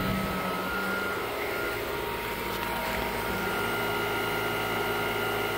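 A brand new Heil 3-ton central air conditioning condenser from 2018, fitted with a Copeland scroll compressor, runs with a steady, even hum and fan whoosh throughout, close by with no talking.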